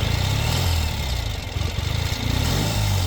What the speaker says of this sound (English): I'll give it a couple gentle revs.